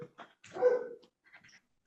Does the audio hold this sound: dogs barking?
yes